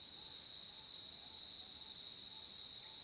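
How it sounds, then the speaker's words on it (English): Cicadas in a rainforest give a steady, continuous high-pitched drone that holds at an even level throughout, with faint pulsing insect calls in the background and no voices. "This noise is actually the cicadas."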